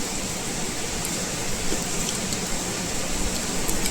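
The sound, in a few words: heavy rain falling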